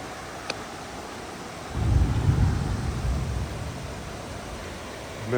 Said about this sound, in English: there's a thunderstorm right on my tail, been thundering right behind me